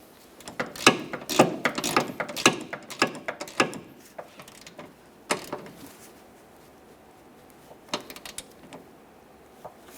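A ratchet snugs the inboard bolt of a rear upper control arm on a 2007–2017 Jeep Patriot. Quick bursts of close, rapid clicking come in short strokes, then a few isolated clicks follow after a pause.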